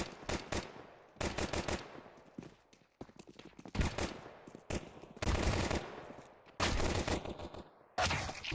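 Pistol gunfire in a Counter-Strike esports match, sharp shots in quick clusters separated by short pauses, loud and close, with footsteps and game effects between the bursts.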